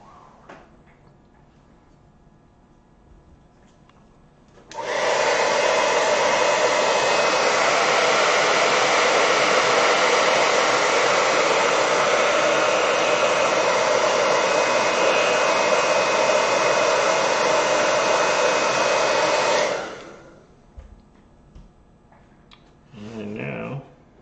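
A hair dryer drying a watercolor painting blows loud and steady for about fifteen seconds, switching on abruptly and winding down, with quiet room sounds before and a few faint knocks after.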